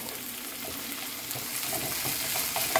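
Garlic, onion and tomato sauté in a pan with a soft, steady hiss and light crackle, fairly quiet and close, no talk.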